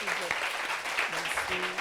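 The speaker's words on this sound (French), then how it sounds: "je veux qu'on applaudisse encore pour elle" A crowd claps steadily for under two seconds, with faint voices mixed into the applause.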